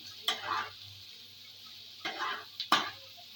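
Shredded chicken and onions stirred in a pan: three quiet scraping bursts, spaced apart, over a low steady background hum.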